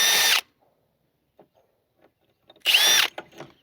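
A power drill drills out a stuck rivet, with two short loud bursts of whining motor noise, one at the start and one near the end, and quiet clicks and handling noises between them.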